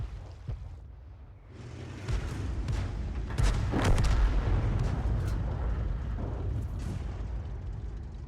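A tank gun goes off in a tank battle game with a heavy booming report and rolling rumble, set within continuous low engine noise and distant blasts.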